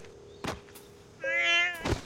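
A domestic cat gives one clear, drawn-out meow in the middle, bracketed by a couple of short soft thumps before and after; close and fairly quiet, with no talking.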